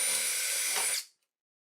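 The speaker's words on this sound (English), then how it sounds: "you're going to want to go back around using the drill bit almost like a saw with a back and forth motion" A drill bit sawing back and forth through the plastic crank knob of a Proton pack, a close, steady high-pitched whine that cuts off abruptly after about a second.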